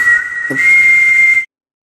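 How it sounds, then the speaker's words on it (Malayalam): A person whistles one long, steady, high pitched note lasting over a second, loud and close, with a short break near the start, then it cuts off to silence. "നീ ഇപ്പൊ ചൂളം വിളിച്ച ഇല്ലയാ"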